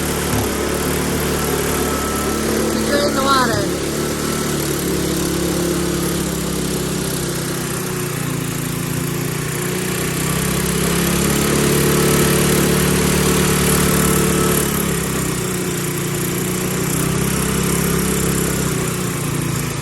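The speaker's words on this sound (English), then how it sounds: "So the boys were able to get the snowblower out from behind the boat." Snowblower engine running close by outdoors, a steady droning hum throughout, with brief talk over it.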